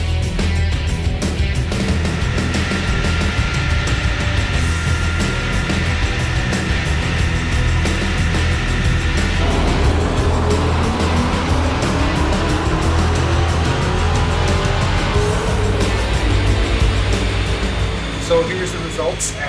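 Supercharged 2010 Dodge Challenger with a 5.7 L Hemi and Magnuson supercharger running on a chassis dyno, a loud, sustained engine roar that climbs in pitch through the pull with a steady whine on top, changing tone partway through.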